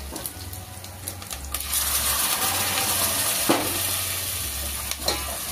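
Spice paste (vatan) with turmeric fries in a pan over a medium flame, a continuous bright sizzle punctuated by scraping stir strokes and occasional clinks, alongside an intermittent low hum.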